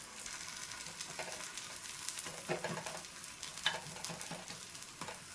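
Ghee-laden neti bobbatlu roasting on a pan over low to medium flame, a steady soft sizzle with light scraping and turning sounds throughout, quiet and close with no talk.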